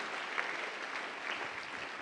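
A church congregation applauds in praise of the Lord, a steady, dense wash of clapping filling the whole moment at an even level, with no distinct voices standing out.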